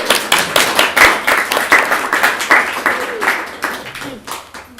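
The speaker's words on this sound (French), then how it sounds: "je vous applaudis" Scattered audience clapping at a round-table discussion on teen dramas, in uneven bursts of individual claps rather than a full ovation, with a voice speaking over it.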